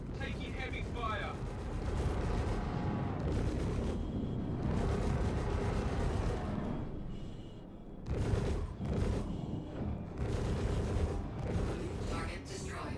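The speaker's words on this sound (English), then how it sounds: "Taking heavy fire." Heavy gunfire in a video game, continuous booming shots and blasts filling a busy combat mix at moderate level, with a few sharper bursts standing out.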